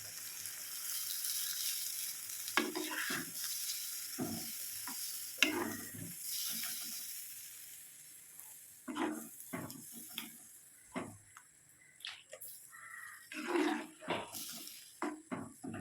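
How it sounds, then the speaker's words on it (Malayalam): Water goes into a simmering jackfruit seed curry in a pot, giving soft splashes and stirring scrapes over a quiet bubbling background, with faint clinks scattered through. "ഇനി നമുക്ക് ആവശ്യത്തിനുള്ള വെള്ളം ചേർത്ത്"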